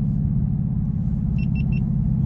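A Hellion twin-turbo Mustang on radial tires holds a steady, loud, low engine drone heard from inside the car, with a few faint electronic beeps on top.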